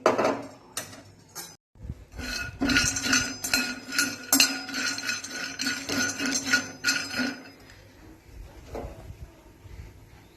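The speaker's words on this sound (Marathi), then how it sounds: "आता हे शेंगदाणे मी कच्चेच घेतलेले त्यामुळे भाजून घेते" Raw peanuts roasting in a pan for a fasting-day potato sheera, giving repeated metallic scraping and clinking of a spatula against the pan, busy and close through the middle, then fading to quiet near the end.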